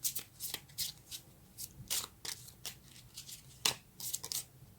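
Tarot cards being shuffled by hand, a run of quick papery riffles and slaps in an irregular rhythm, close and fairly quiet with no talking.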